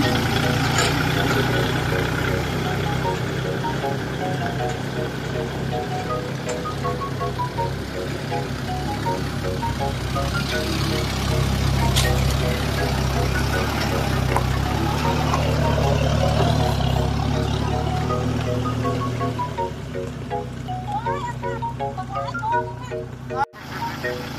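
A farm tractor engine idles with a steady, loud low rumble and even throbbing that runs without a break, while voices are faintly heard over it.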